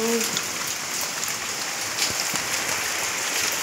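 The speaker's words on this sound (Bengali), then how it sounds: "ঘুম থেকে উঠে দেখি এত বৃষ্টি হচ্ছে" Heavy rain falling outdoors, a steady dense hiss of drops that holds evenly from start to finish with no break.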